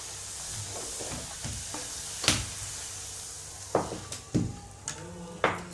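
Puris deep-frying in hot oil and puffing up, a steady bubbling sizzle broken by a few sharp clinks and stirring knocks close by, with no talk.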